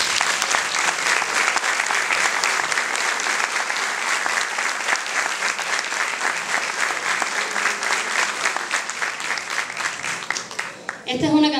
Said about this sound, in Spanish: Quiero que reciban con un fuerte aplauso a Rodrigo García Meneiro.